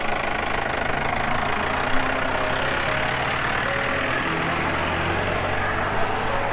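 Vehicle engine running steadily while riding along a road toward a water source, a continuous mid-pitched drone with a slight knocking texture and no talking over it.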